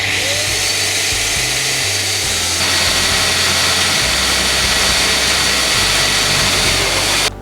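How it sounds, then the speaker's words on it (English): Loud, steady whine of a power drill boring holes while building a catamaran, running close by, shifting pitch partway through and stopping abruptly at the end. "I make sure everything is level before I drill the final holes."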